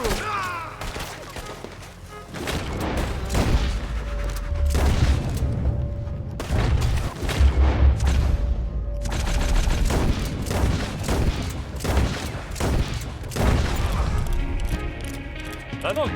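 Dense, rapid gunfire from a Red Dead Redemption 2 shootout, with many overlapping shots and booms firing almost without pause and voices mixed in throughout.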